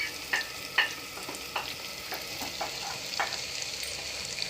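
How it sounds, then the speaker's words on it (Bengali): Tomatoes and green chilies sizzle steadily in a hot pan, with light spatula clicks and stirring taps scattered through the continuous frying hiss. "তো আমি এখানে টমেটো আর লঙ্কাও দিয়ে দিয়েছি, সেগুলো ভাজা ভাজা হচ্ছে।"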